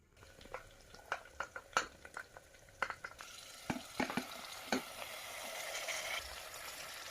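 Mixed vegetables, tomato among them, frying in a pan for vegetable pulao: a run of close spoon-against-pan stirring knocks, then a steady, building sizzle with no talk.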